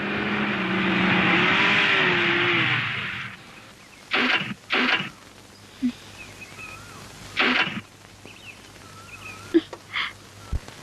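A vehicle drives past with a steady engine rumble for a few seconds. The rumble cuts off as it stops, followed by scattered clicks and thumps in a quiet scene.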